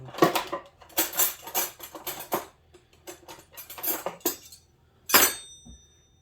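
Metal butter knives clink and scrape against each other and a measuring cup while chilled Crisco shortening is portioned, a series of close, light irregular taps and scrapes ending in one sharper clink.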